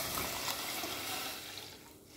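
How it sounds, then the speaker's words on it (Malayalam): Fresh water is poured onto orange peel in a cooking pot for boiling, a close, rushing splash that fades slightly toward the end. "തിളപ്പിച്ച് നമ്മൾ ആദ്യത്തെ വെള്ളം മാറ്റി നമുക്ക് വീണ്ടും പുതിയ വെള്ളം ഒഴിച്ച് തിളപ്പിക്കാം"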